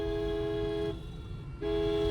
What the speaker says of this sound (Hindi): एक लॉन्ग हॉर्न बजाओ, कंटिन्यू हॉर्न पे हाथ रखे रहो